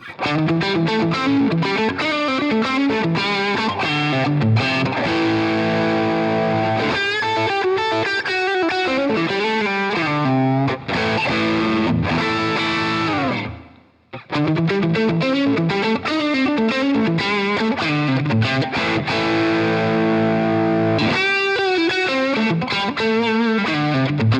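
An electric guitar, a Strat on its neck pickup, plays sustained, effected chords and melodic lines with a warm, slightly distorted, chorus-tinged tone, steady and continuous with a brief dip midway.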